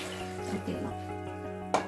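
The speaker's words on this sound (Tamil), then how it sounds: "இந்த கொஞ்சமாக இருந்த டம்ளரில் இருக்க பாலையும் சேர்த்துருங்க" Milk and curry water being poured into a cooking pot, a soft steady liquid trickle over a low kitchen hum, with a brief splash near the end.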